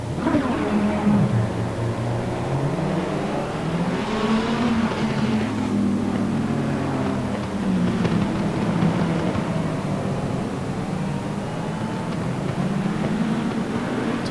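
GT3 race cars, including Lamborghinis, an Audi R8 and a McLaren 650S GT3, rolling toward the start at Circuit Zolder, a dense continuous engine drone with shifting pitch as the pack moves together, no talk.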